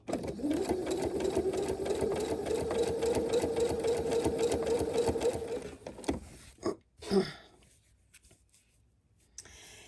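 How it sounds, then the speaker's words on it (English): A sewing machine runs steadily for about six seconds while sewing a zigzag stitch beside an earlier straight stitch. The motor whirs loudly and evenly, then stops, followed by a few brief clicks and handling sounds. "I'm doing the zigzag just on one side of that initial straight stitch."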